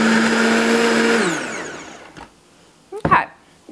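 A Vitamix blender whirring loudly as it purees vegan cheddar cheese sauce, the motor pitch sliding down as it spins to a stop, then a few clunks of the jar and lid.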